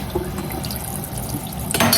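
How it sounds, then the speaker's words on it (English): Cool tap water runs steadily over freshly blanched peas in a kitchen, a close, continuous splashing rush with a brief louder splash at the end. "we're gonna run some cool water over them"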